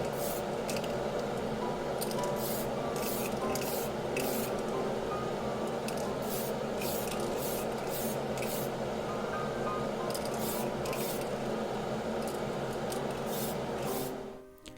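Airbrush misting Tamiya TS26 pure white paint onto a 1/24 scale Ford Sierra RS Cosworth 4x4 model body, a steady close hiss running almost unbroken for about fourteen seconds and then stopping abruptly.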